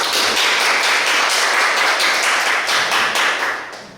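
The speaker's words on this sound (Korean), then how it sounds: "박수 부탁드립니다." Applause from a university lecture audience at the end of a talk: dense, even clapping for about four seconds that fades out at the close.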